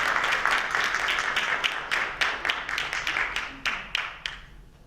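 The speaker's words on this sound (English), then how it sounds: "Let's give them another round of applause, ladies and gentlemen." A jazz festival crowd applauds the band, a burst of dense clapping that thins into scattered claps and fades out over a few seconds.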